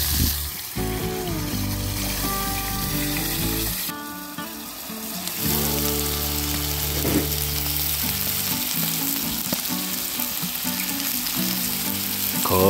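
Bone-in pork belly cooks over charcoal under a lid with a steady, continuous sizzle and crackle. Background music plays throughout, with no talking.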